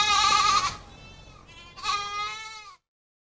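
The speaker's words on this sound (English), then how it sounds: "Goat." A goat bleats twice in quick succession, each call a quavering, nasal cry up close, with a brief dip between them before silence.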